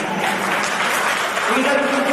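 An audience at a public town council election meeting claps loudly and densely in one sustained burst of applause, with a voice faintly heard over it near the end.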